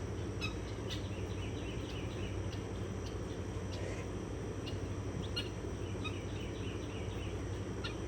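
Birds forage outdoors after dropping off a roof to peck at bugs on the ground, giving scattered faint chirps and calls over a steady, dense ambient background with no talking.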